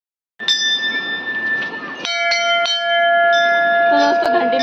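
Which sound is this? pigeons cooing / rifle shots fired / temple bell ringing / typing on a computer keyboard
temple bell ringing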